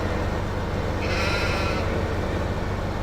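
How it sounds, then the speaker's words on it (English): Sheep bleating in a farm animal pen, one drawn-out bleat rising over a steady low hum and background din, fairly close and alone without talk. "so we don't have to listen to the sheep"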